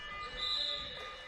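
A basketball game buzzer sounds at the end of a quarter in a men's university league game, a single loud sustained electronic tone lasting over a second, with crowd noise beneath.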